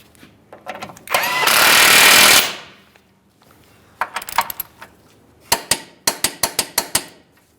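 A ratchet snugs the forward mounting bolt on the lower control arm of a 2013-2020 Ford Fusion 2.0L: a loud burst of mechanical noise, then series of sharp clicking strokes in quick rhythmic runs.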